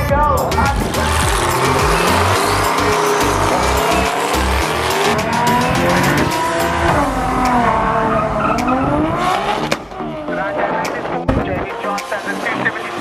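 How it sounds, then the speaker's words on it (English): Loud drag race car engines roar and rev continuously up close at Saldanha, with tires squealing and rising and falling engine pitch throughout. "We can just hear cars"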